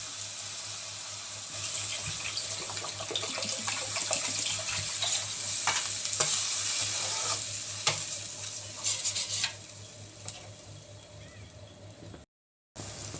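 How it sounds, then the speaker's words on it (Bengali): Water goes into a sizzling fried spice paste for a bread kofta curry and is stirred, a close spattering hiss with scraping stirs that calms and fades toward the end. "কষিয়ে নেব মশলাটা আমার কষানো হয়ে গেছে তেল ছেড়ে দিয়েছে এবার এতে আমি জল অ্যাড করে দেবো"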